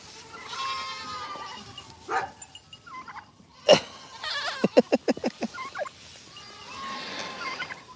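Goats bleat repeatedly, a run of short, loud, quavering calls close by, mixed with other nasal animal cries and a sharp burst midway.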